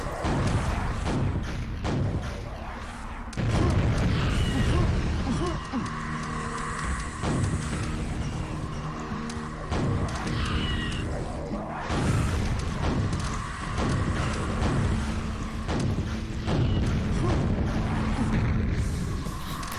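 Stacked explosions in the video game Quake: repeated heavy booms and thuds pile up one after another, some overlapping, over a low mechanical hum of game sound. No one speaks.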